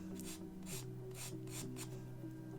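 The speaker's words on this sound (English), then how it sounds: "if I sharpen up that edge" A pencil is sharpened to a finer point in a series of rhythmic, scratchy strokes, about six bursts over a steady low hum, close and fairly quiet.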